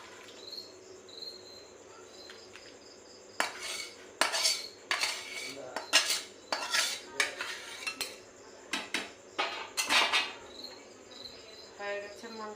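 A pot and metal utensils clatter and clink in a series of sharp bursts as chicken curry is lifted off a gas stove, close and fairly loud, with a faint cricket-like chirp beneath.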